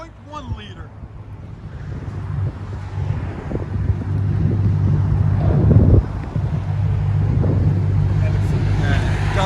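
A straight-piped Dodge Challenger SRT/8 with a 6.1L HEMI idles outdoors, a deep steady rumble that grows louder, with wind buffeting the microphone and people talking over it.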